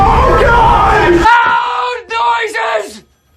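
Several people scream and yell in a haunted house, loud close shrieks that break into a few short panicked cries before cutting to silence.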